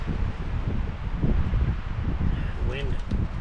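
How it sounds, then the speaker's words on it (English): Outdoor wind at an off-grid log cabin, low blustery buffeting and rumble against the microphone, steady throughout with a brief faint tonal sound near the end. "Wind."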